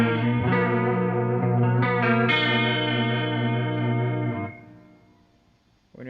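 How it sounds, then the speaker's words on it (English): A guitar plays through a NUX Verb Core Deluxe pedal with chorus layered on the reverb, sustained shimmering chords that fade out before a new note starts near the end. "It puts a little bit of chorus on top of your reverb."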